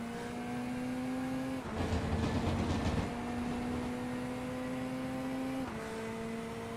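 Racing engines whine along steadily at Interlagos, a V8 Corvette roaring past close by in a brief loud burst, then the drone settles again.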